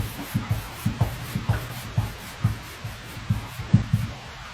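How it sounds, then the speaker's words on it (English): A pad rubbing and burnishing a shellac surface in French polishing, with walnut oil added, gives soft rhythmic swishing strokes, close and fairly quiet, repeating about twice a second. "I want to just kind of press out all those swirl marks and really get a good burnishing of the surface."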